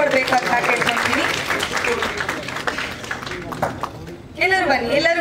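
An audience at a film launch event applauds, the clapping running under a speaking voice and music, then a louder voice takes over near the end.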